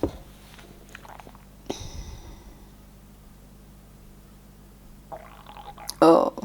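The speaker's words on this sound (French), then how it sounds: "là c'est mon ventre qui gargouille" A stomach gurgles and rumbles in a quiet indoor room, with a few brief low bubbling bursts spread across the stretch, close and fairly faint, then a louder noisy burst near the end.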